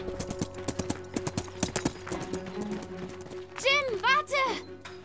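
A horse's hooves clip-clop in a quick, regular rhythm as it is ridden away, loud at first and fading, followed by a few higher whinny-like cries near the end.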